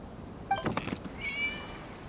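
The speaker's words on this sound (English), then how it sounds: "It was just a cat." A quiet cat meow comes from the Genshin Impact video game: one short, soft, slightly wavering call over a faint background hum.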